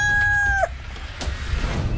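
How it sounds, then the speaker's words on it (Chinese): A rooster crows once, loud and close, a sustained tone that breaks off sharply, followed by quieter background rustle. "公鸡打鸣，该换班了。"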